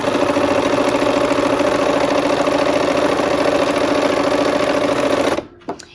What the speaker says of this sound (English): let's go ahead and sew a 1/4 inch from both sides